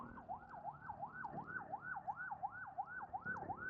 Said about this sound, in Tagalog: Unahin mo natin yung ambulance.